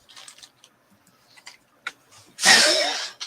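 A single loud, sharp sneeze bursts out near the end, preceded by faint ticking and small rustling sounds.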